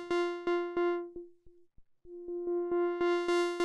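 Software modular synth in Voltage Modular playing a steady repeated note through a low-pass filter; the bright buzzy tone dulls as the cutoff sweeps down, nearly vanishing, then opens back up, clear and alone.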